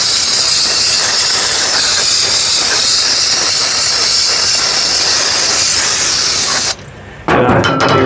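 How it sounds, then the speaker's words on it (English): Walmart brake cleaner sprayed from an aerosol can onto a Kawasaki Mule carburetor, heard as a loud, continuous close hiss that cuts off briefly and then resumes. "just got a little can of Walmart brake cleaner. Just gonna clean the outside off real quick"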